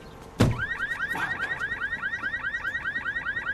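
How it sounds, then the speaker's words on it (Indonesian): A car alarm goes off after a sharp thud and whoops in a fast, steady, looping wail. It is loud and close and keeps repeating with no voices. "Garrett menyuruh Connor buat mematikan alarm mobil yang sengaja dia nyalakan"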